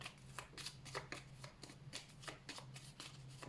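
Oracle cards shuffled by hand in a steady series of quick riffling bursts, close and fairly quiet over a low steady hum, with no talking.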